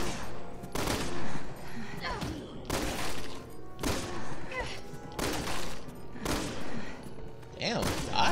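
Gunshots in the Resident Evil 6 video game: a series of loud, evenly spaced shots roughly once a second, with voices talking between and over them.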